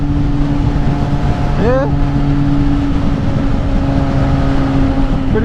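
A 2019 Yamaha MT-09 motorcycle engine hums steadily while riding at about 85, a loud sustained drone with wind rush and one brief pitch sweep, and a voice briefly speaks over it.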